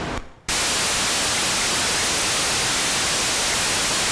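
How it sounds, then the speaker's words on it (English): Random gate output of a Serge CGS31 Elby Designs digital noise module: a burst of quieter noise, a short gap, then a loud, constant, bright and harsh hiss holding steady to the end. "And then let's hear this random gate sound."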